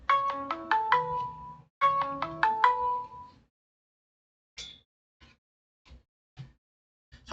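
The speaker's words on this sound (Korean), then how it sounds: "잠시만요. 전화 좀 받고요." A phone ringtone plays a melodic, bell-like pattern in two quick repeated phrases, clear and fairly loud, then stops and leaves a few faint clicks and small noises in a quiet room during a Korean auction-law lecture.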